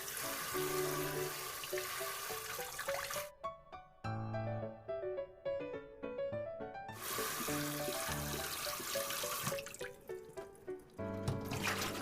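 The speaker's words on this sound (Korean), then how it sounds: "손질한 새우를 흐르는 물에 한 번만 헹궈 줄게요." Cleaned shrimp rinsed under running tap water in a kitchen sink: a steady close splashing rush with a brief break midway where dripping and clinking come through before the flow resumes.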